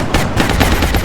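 A heavy soldier's gun firing in the turn-based strategy game XCOM: War Within, a loud, dense burst of repeated shots filling the whole clip with no talk.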